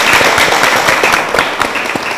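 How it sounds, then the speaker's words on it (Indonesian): A studio audience of education faculty students applauds at a university campus event, dense, loud, close clapping sustained without a break. "Tepuk tangan untuk semuanya"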